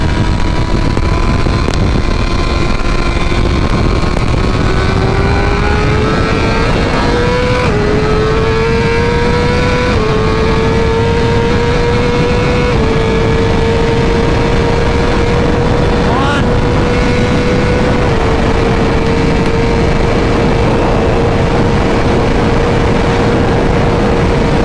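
A 2023 BMW S1000RR motorcycle engine runs loudly during a roll race, its tone climbing through the gears with pitch steps and brief dips between shifts, sustained and close throughout.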